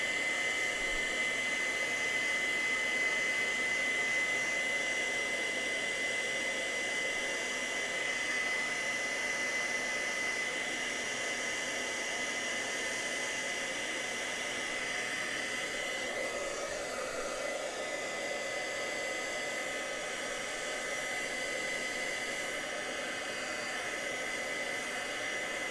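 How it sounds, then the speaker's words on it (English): A heat tool blows hot air to dry stamped Versamark ink, a steady loud broadband whoosh running unbroken for the whole stretch with no talk. "I'm gonna take my heat tool again, and I'm gonna heat up"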